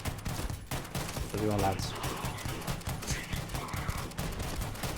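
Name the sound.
G17x sidearm with 50 round drum mag firing in video game Starfield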